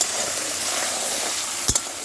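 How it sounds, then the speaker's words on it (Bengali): Bottle gourd peels fry in fish oil on a portable clay stove, giving a continuous close sizzle and hiss, with a brief sharp clatter of a utensil near the end and no speech. "রান্না করছে মাছের তেল দিয়ে আর ওই লাউয়ের চোচা ভাজা"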